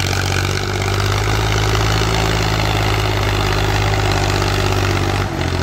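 A 2006 Powertrac 445 tractor engine labouring under load while pulling an 18-disc harrow in second gear, a loud steady low diesel drone with pulsing rhythm that cuts out abruptly near the end.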